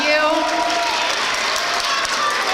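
Audience at a school awards event applauds the organizer of the yearly children's talent show, loud sustained clapping from a full room with a bit of talk blended in.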